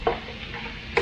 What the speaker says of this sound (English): you're going to just keep stirring them and getting the butter and the garlic on them and flavoring them